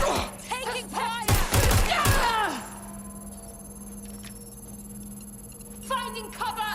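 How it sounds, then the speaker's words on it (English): Bursts of gunfire in Watch Dogs: Legion crack loudly around a second in, mixed with game voices, then fade to a quieter ambience before more voices return near the end. "Taking fire!"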